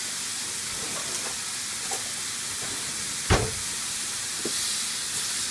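Cecina cooking in a hot pan gives a steady, quiet sizzle and hiss with faint steam, broken by one brief louder clatter midway, with no voices.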